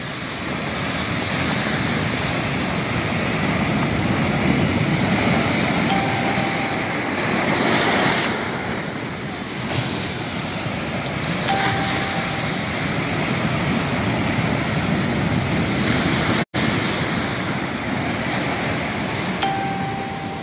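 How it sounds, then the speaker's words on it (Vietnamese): Violent storm surf from Typhoon No. 9 crashes continuously onshore near houses, a loud, dense roar of waves and wind with no break throughout. "5 mét nữa thì những cái cơn sóng dữ nó sẽ ập vào nhà"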